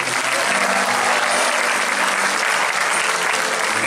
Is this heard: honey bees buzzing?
no